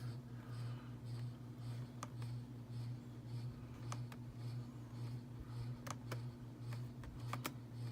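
Keys on a computer keyboard are tapped in sparse, faint clicks while a folder name is typed, over a steady low electrical hum.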